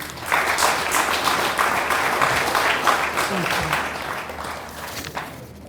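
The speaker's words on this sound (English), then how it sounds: "One more time, a round of applause for Uncle Harun" Sustained audience applause fills a gala dinner hall, dense steady clapping from many hands holding for several seconds before tapering slightly near the end.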